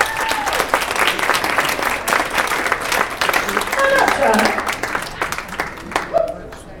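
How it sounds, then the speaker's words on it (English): Audience applause for Shauna Urbanski, called up by name at a KUHS Radio/TV Denver event: steady, dense clapping from a nearby crowd across the whole stretch, easing slightly toward the end, with a few voices mixed in. "Everybody please may I have a round of applause."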